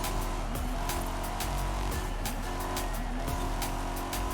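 Race car in Forza Horizon 5 roaring at speed and drifting through a corner, engine loud and close with rhythmic gear-shift cuts and tire squeal layered on top.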